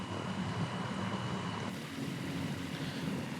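A propeller-driven taildragger takes off in Microsoft Flight Simulator 2024, its engine a steady, loud droning roar with a dense low rumble that holds evenly throughout, no voices over it.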